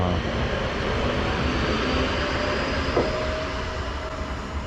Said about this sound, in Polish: przy okazji pociąg LKA